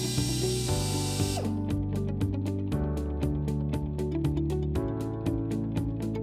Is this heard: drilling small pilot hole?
yes